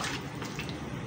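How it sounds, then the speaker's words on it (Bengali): Water poured into a cooking pot, a steady close wash of splashing liquid with no pauses and no talk. "তারপরে এই যে দেখেন যে পানিটা দিছে, পরিমাণ মতো আমরা পানি দিয়ে দিছি।"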